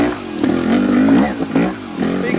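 A 2022 Vertigo Nitro 300 trial motorcycle revs up in first gear on a climb, its engine note rising and falling in quick surges, loud and close.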